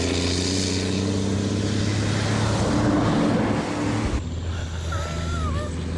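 An old European bus is driven hard at a hillclimb event, its engine holding a loud, steady droning roar with strong tonal harmonics. The roar shifts abruptly and eases slightly near the end.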